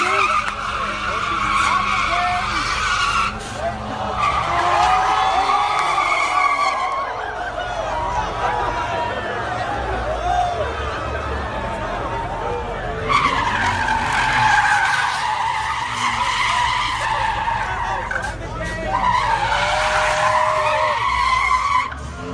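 A Honda car spins donuts in reverse, its tires squealing and skidding in long repeated bursts over revving engine noise, with crowd chatter in the background.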